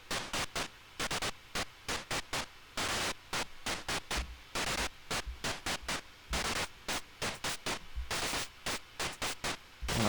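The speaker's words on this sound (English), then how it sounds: "if you then make the amount and rate large enough, you actually get a form of noise" Harsh synth noise made by heavy pitch modulation with a noise source in Ableton Live, loud broadband hiss bursts gated into a choppy rhythmic pattern, with no voices.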